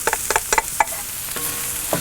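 Garlic and cauliflower rice stirred in a hot pan on a Kamado Joe grill, with a steady sizzle and a string of sharp utensil scrapes and clinks early on, then a quieter, continuous frying hiss.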